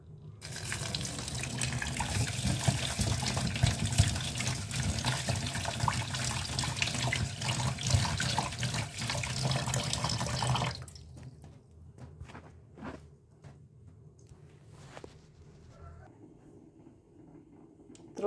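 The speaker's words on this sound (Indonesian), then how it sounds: "Beras ketannya tak cuci." Glutinous rice being washed under a running kitchen tap, a steady loud gush of water into the sink for about ten seconds, then the flow stops, leaving scattered drips and small splashes nearby.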